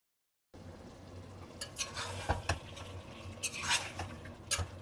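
Pieces of chicken tossed into a hot biryani pot and stirred, with a steady frying hiss and scraping spoon strokes against the metal, sometimes louder, after a brief silence at the start.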